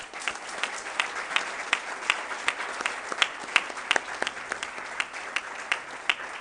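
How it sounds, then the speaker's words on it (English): An audience at an international technical university conference in Kenya claps to thank the organizers, giving a steady, sustained round of applause from many hands in a hall. "I'd like to request us to just clap and thank them"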